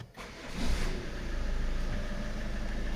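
A Ford Kuga 2.0 Duratec with a boost fault cranks briefly, then fires up and settles into a steady, close idle with a slight rise in revs as it catches.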